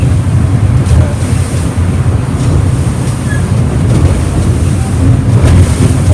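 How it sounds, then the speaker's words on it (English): A police patrol boat pounding across open ocean waves, with loud continuous wind buffeting and water rush and deep low rumble throughout, close and heavy with no clear breaks. "we are hitting the waves once again"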